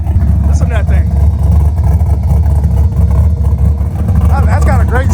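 Revving engine of a naturally aspirated, all-motor car build, loud and continuous with rising and falling pitch, while people talk over it near the road.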